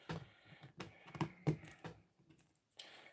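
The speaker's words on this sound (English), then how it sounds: "You can just let the paint dry and peel it right off." Dried paint being peeled off a plastic pour spout on a paint can, heard as a few short, sharp crackling and tearing bursts up close, with quieter rustling between them.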